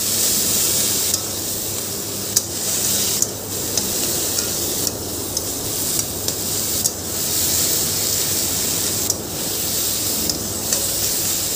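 Taro stems frying in a pan with turmeric and salt, giving a steady sizzle and hiss broken by periodic stirring scrapes, close and continuous.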